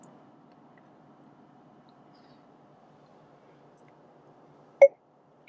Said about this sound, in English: push and release the talk switch and wait for the beep